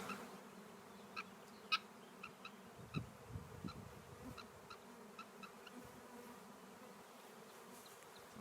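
A honeybee swarm moving into empty hive equipment outdoors hums in a faint, steady drone, with individual bees buzzing close past and small ticks and knocks scattered throughout.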